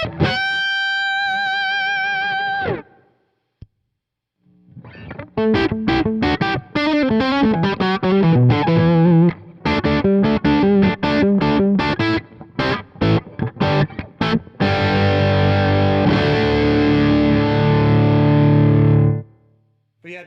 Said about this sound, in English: dialed like this amp, really, it has a great, just kind of natural amp compression